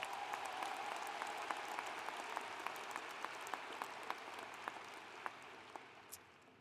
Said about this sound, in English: if we can give like a round of applause for them